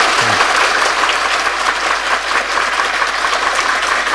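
Audience applause at a devotional mehfil gathering, a dense steady clapping from a crowd that fills the whole stretch at even loudness, with no voices over it.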